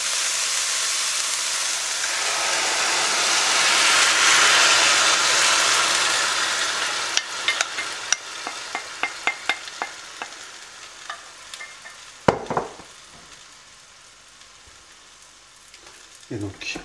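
A spiced tomato sauce is poured into a hot pan of curried cauliflower. A loud sizzle swells and hisses for several seconds, then settles into a quieter fry with a run of quick clicking scrapes from the pan.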